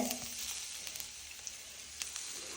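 Bitter gourd slices sizzle steadily in hot coconut oil, a close, even frying hiss with scattered soft pops and crackles throughout.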